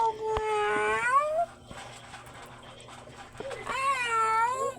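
Cats meowing at feeding time: two loud, drawn-out, wavering meows near the start and end, with quieter rustling and faint background sounds between them.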